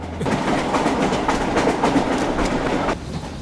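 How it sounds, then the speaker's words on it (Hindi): Train slowing at a red signal: a loud, steady clickety-clack of wheels on rail joints with a constant rumble, heard close and alone with no talk. "सिग्नल रेड है, ट्रेन स्लो हो रही है सर।"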